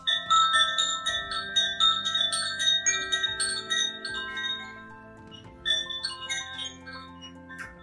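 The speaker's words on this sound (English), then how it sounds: "When you hear that wind chime sound like this" Wind chime ringing with bright, scattered metallic tones that overlap and linger, fairly soft and steady, with a low sustained musical drone underneath.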